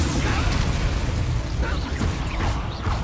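Incendio fire spell cast in Hogwarts Legacy, a dense booming rush of fire that stays loud and continuous for about three seconds, with a few bursts on top and no speech.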